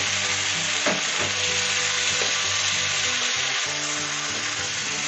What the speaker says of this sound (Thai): ใส่ คะน้าแล้วก็เครื่องปรุงที่เราเตรียมไว้ลงไปในผัดนะครับผม